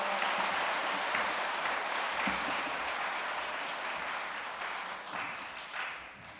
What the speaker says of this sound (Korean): 우리 큰 환영의 박수로